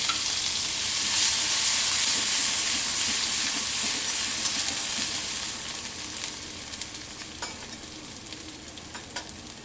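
Loud, steady sizzling of ginger-chili paste and cumin in hot ghee in a kadai, tempering for pulav-kadhi, with scattered stirring clicks and a hiss that eases slightly toward the end, no talk.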